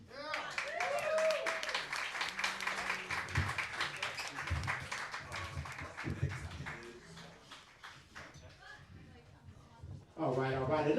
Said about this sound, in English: Another round of applause to GT the Gangsta Taco Topalian.